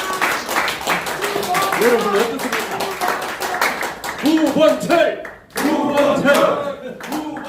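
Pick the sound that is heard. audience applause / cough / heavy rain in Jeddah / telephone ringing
audience applause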